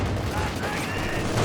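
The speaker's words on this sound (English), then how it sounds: "Mortar going for the flame barrage though." Mortar flame barrage in Company of Heroes 2, a dense, steady rumble of explosive fire and crackling impacts with a commentator talking over it throughout.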